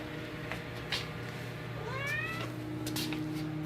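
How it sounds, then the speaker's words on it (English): A male house cat meows once at home, a short rising-and-falling call near the microphone over a steady low indoor hum. "meow."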